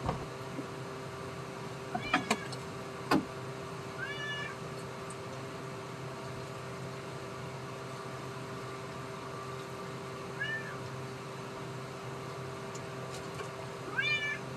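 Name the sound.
cat meowing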